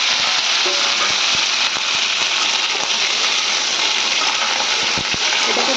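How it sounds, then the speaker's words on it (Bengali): Potato and cauliflower pieces fry in hot mustard oil, giving a loud, dense, continuous sizzle with scattered crackles and pops throughout. "তেল গরম হয়ে গেছে, এবার আমি দিয়ে দেবো আলু ফুলকপিটাকে।"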